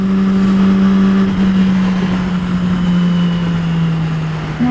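Cars roll past near a DC freeway, a steady loud engine drone and road hum from a vehicle in traffic, continuous throughout with no talk.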